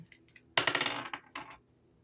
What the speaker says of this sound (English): If it's astrology, let's do the astrology dice here.